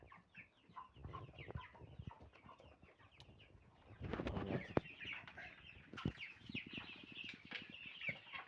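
Cobb 500 broiler chickens eat feed in a close flock, with soft pecking and scratching mixed with steady low clucks and chirps.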